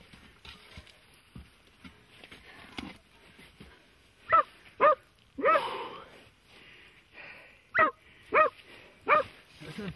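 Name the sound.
hunting dog barking in a badger burrow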